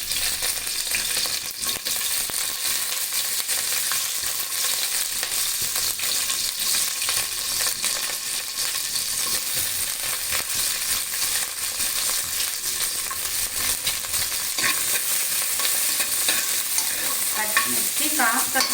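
Cut green chillies fry in hot oil for a tomato mint chutney, making a dense, even sizzle that runs throughout, with a few clattering stirs near the end.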